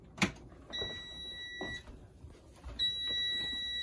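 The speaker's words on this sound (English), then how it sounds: "Just wait for the alarm here." An air fryer's timer alarm beeps in a kitchen with steady electronic tones, two separate beeping bursts with a short gap between them, plus light clicks and handling noises.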